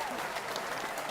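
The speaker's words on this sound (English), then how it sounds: "Give him a hand clap" Audience clapping their hands for a guest, a brief, steady patter of applause heard at a moderate distance, with no talking.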